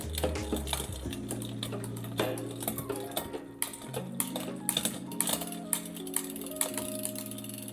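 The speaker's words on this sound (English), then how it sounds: "It doesn't want to shift down just on one sprocket." Mechanical clicking and ticking from a SRAM GX drivetrain on a Scott Spark mountain bike, seized after a muddy race, as gears are shifted and the cranks spin, with a steady whirring hum beneath dense close-up clicks.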